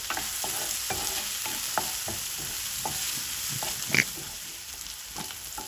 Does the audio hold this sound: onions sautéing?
yes